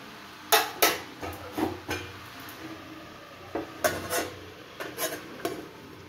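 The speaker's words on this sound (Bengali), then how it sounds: "এবার আমি লাউটা চাপা দিয়ে দেবো নরম করার জন্য।" Pan lid being set over gourd cooking in a pan, a few close metallic clinks and scrapes with quieter gaps between.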